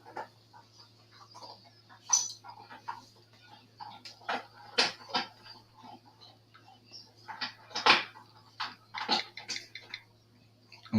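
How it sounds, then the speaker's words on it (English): Dog crunching on a chew toy on a desk indoors, producing irregular, close, sharp crackling bites and clicks in uneven bursts over a low steady hum. "if you hear the crunching, like I said earlier, that's the dog eating a chew toy"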